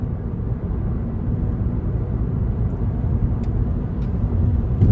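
A car engine pulling hard in fifth gear as it climbs toward highway speed, a steady low drone with road and wind rumble, fairly loud and unchanging, no voices.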